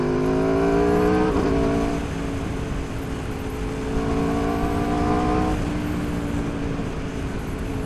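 A 2019 Aprilia RSV4 Factory sport motorcycle accelerating hard on a ride, its engine rising in pitch through two long pulls with a gear change between, loud and steady throughout.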